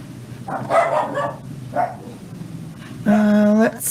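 Dogs barking nearby, a few short barks and yips in separate bursts followed by a longer whining howl, with a person speaking briefly in between.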